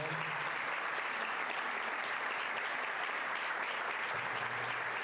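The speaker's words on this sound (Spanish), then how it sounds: "te invito a que le des un fuerte aplauso al Señor" Sustained, dense applause from a church congregation during a service, steady and even throughout with no speech over it.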